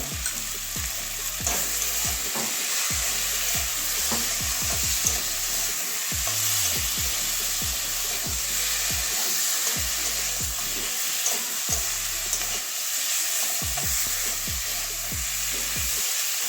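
Bengali masala with tomato and salt frying in a pan for a katla fish curry with cauliflower and potato, a steady close sizzle broken by rhythmic scraping strokes of stirring throughout.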